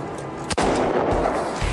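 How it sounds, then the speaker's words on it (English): A single sharp, loud Kalashnikov rifle shot fired outdoors at targets in hills in Pakistan, a sudden crack followed by a short rumbling echo that fades over about a second. "I'm shooting the enemies in the hills. I've never done this before. It's a Kalashnikov"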